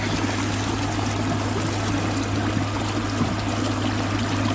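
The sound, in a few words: river water flowing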